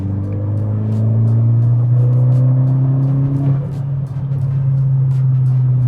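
A VW MK6 GTI pulls hard under boost in fourth gear from about 45 mph, with a loud, steady engine drone rising in pitch, heard from inside the car.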